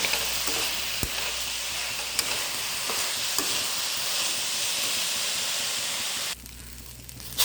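Washed rice fried in a pan for vegetable biryani gives a loud, continuous sizzle with occasional stirring scrapes, then drops off sharply near the end; no one speaks.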